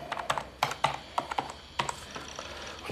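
Rapid clattering keystrokes on a computer keyboard, irregular bursts of typing close up and fairly loud, with no voices.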